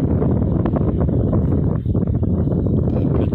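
Heavy wind buffets the microphone outdoors at an exploration site, a loud continuous low rumble with gusty fluctuations and no break, drowning out other sound.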